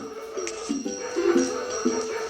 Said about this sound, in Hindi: दादी माँ के जो कुत्ते थे उन्होंने तो भौंकना शुरू किया